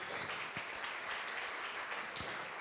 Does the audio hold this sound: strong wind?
no